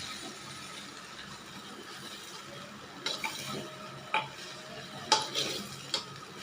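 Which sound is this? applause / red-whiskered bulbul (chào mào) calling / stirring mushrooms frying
stirring mushrooms frying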